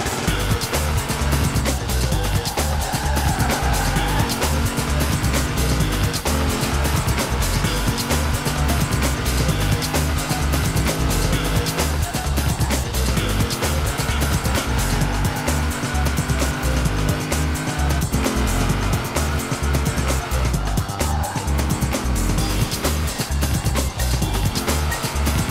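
A 1953 Chevy Corvette driven in Forza Horizon 4, its engine a steady, loud, continuous drone with rising and falling pitch throughout.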